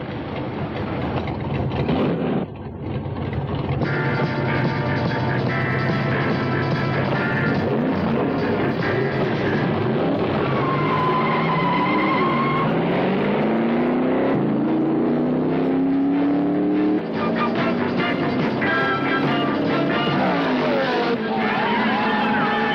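Drag racing car making a run, a loud roaring engine rising in pitch through the gears as it accelerates away, mixed with crowd noise and background sound from a 1980 television broadcast.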